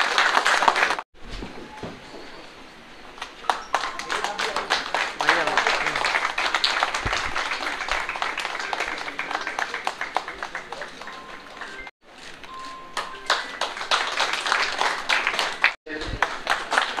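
An audience claps steadily at an Ambedkar Jayanti celebration in Agra, a sustained patter of many hands continuing for several seconds with brief breaks.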